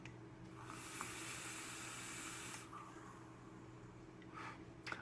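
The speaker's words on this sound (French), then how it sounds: "Belle vapeur." A long exhale of 6 mg, 50/50 mango-like e-liquid vapour from a Horus vape, a soft steady breathy hiss lasting a couple of seconds up close, then quieter rustles and a brief second puff near the end.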